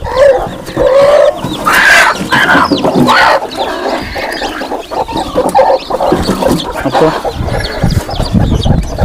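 Free-range poultry hens in a farm shed cluck in repeated bursts, close and fairly loud, with rustling and scattered bird calls around them.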